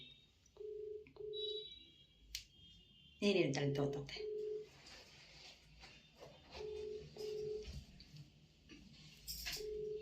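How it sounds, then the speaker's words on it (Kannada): Phone call being placed: short repeated ringback tones sound faintly and evenly through the earpiece, with a few higher beeps and a burst of handling noise, while a person speaks briefly nearby. "ರಿಂಗ್ ಆಗ್ತಾ ಇದೆ"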